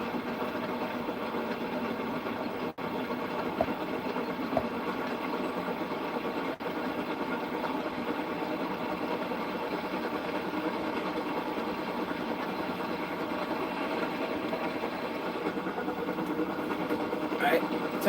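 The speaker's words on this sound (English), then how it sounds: "The train was soon running nicely" A steam engine from a Thomas & Friends story, the engine James, runs with a steady, continuous chugging rumble and hiss that holds evenly throughout, with faint voices underneath.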